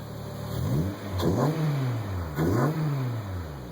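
A 2002 Acura RSX Type-S engine revs up twice in quick succession, the exhaust note rising and falling with each blip, close and fairly loud.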